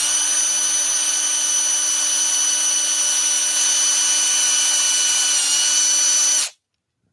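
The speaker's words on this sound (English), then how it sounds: "So brad point drill in." A brad point drill bit bores steadily into turned wood for a candle arch, a loud, even power-tool whine running alone for about six seconds before stopping abruptly.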